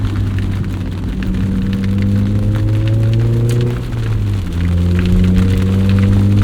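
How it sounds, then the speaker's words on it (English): A heavy downpour roars steadily over the low engine hum of a modified 2003 Mazda MX-5 Miata, rain drumming constantly without pause. "We're getting like torrential downpour."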